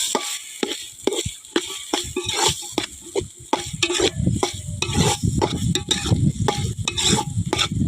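Onions, potatoes and tomatoes fry in a pan while being stirred, with repeated close scraping strokes over a sizzle that grows louder and denser in the second half.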